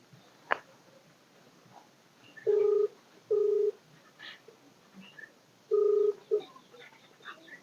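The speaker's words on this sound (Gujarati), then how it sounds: "પેલા મંગાબાને ફોન કરું." A telephone number being dialed on a keypad: three separate touch-tone beeps, each about half a second, spaced irregularly, with soft clicks and faint background noise between them and no talk.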